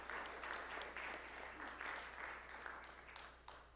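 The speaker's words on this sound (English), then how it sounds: "So we just give a big round of applause for our winners." An audience at a school board meeting claps for award winners, giving a steady burst of applause that is faint and distant throughout.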